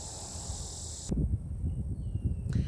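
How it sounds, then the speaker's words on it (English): Loud cicadas drone in a steady high-pitched buzz that cuts off abruptly partway through, leaving faint rustling and low ambient noise. "Those cicadas got loud."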